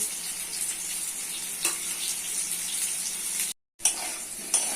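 Potato pieces with turmeric powder and salt fry in hot oil, giving a continuous close sizzle that cuts out briefly near the end and then resumes.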